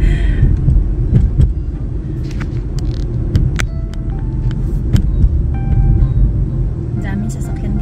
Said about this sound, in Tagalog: Daming sasakyan dito.